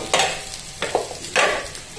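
Onions sizzle in a hot pan while a utensil stirs them in a few scraping bursts, close and fairly loud.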